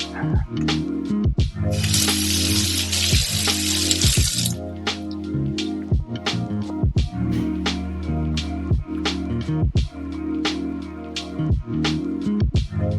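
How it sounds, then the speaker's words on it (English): Tap water runs steadily into a sink as a knife is rinsed after pressing tofu, with a brief louder spray burst and repeated sharp knocks and clatters of the blade and dishes, close and alone without talk. "So I'm going to rinse off this knife."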